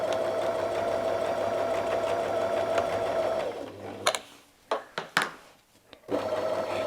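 A sewing machine stitching in ruler-work quilting on a dahlia design hums steadily, stops for a few seconds filled with sharp clicks and small handling knocks, then starts stitching again.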